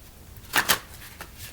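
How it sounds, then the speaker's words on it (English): A deck of tarot cards is shuffled by hand, heard as a few crisp, quick riffling bursts against a quiet background, with no talking. "One more shuffle."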